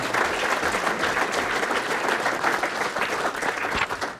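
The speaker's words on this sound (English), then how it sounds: "Round of applause, great meal, great staff, great working with them" Diners give sustained, fairly loud applause at a community area day dinner and award presentation, a thick, even patter of many hands clapping for a few seconds without talk.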